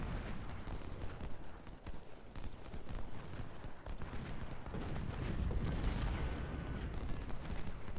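Hooves clip-clop steadily as a supply cart rolls across a Civil War battlefield in Ultimate General: Civil War, mixed into a constant din of distant artillery booms and gunfire that swells toward the end.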